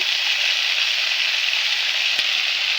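Pointed gourd fries with chopped chili and onion, making a steady, even high sizzle that hisses without a break and has a single faint click near the end, with no one speaking.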